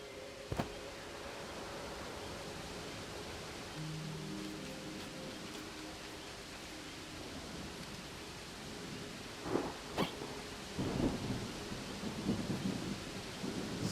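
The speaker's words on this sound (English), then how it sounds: "The storm is getting closer." Steady rain hisses through a thunderstorm in the survival video game Away: The Survival Series, with a sharp crack early on and heavier rolling thunder bursts building near the end.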